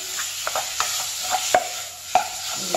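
Seasoned meat stir-fried in a pan for a Korean royal court-style soybean paste stew, with soft sizzling under a few distinct scrapes and taps of a utensil against the pan, close up and without voices.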